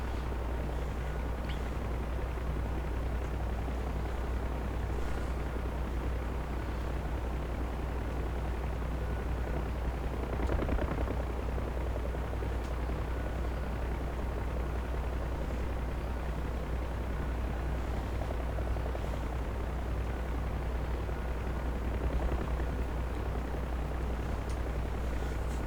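Steady low rotor drone of a Huey helicopter in DCS World with broadband engine noise, continuous and fairly loud throughout, with occasional faint thuds.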